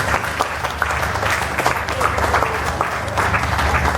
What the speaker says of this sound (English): please, please, please give them a very big clap